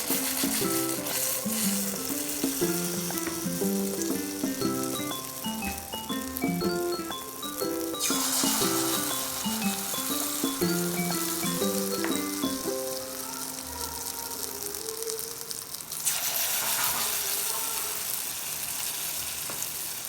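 Luqaimat dough balls dropped one by one into hot oil sizzle and bubble steadily, a close continuous frying hiss with a few light clinks of a spoon.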